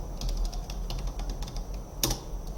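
Computer keyboard typing while coding a web page layout in HTML, a quick irregular run of soft key clicks up close with a sharper keystroke near the end, no voices.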